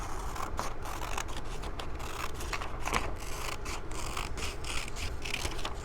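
Scissors snip through paper book pages in a close, steady series of soft crisp cuts and rustles, with no one speaking.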